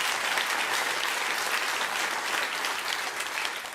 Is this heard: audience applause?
yes